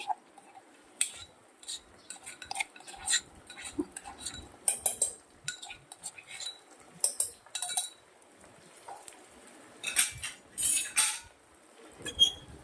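A spoon stirs masala into cluster beans in a pan, making repeated metallic clinks and scrapes in irregular bursts with quiet gaps between them.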